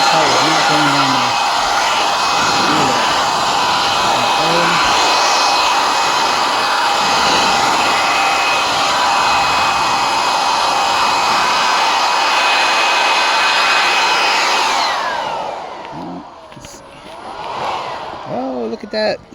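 A DPC Hydro Monster drying blower aimed at a car roars loudly and steadily up close for about fifteen seconds, then winds down and cuts off, leaving faint handling noises and brief talk.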